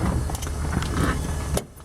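A 1940 Mercury convertible engine idling nearby, a steady low rumble that cuts off abruptly near the end.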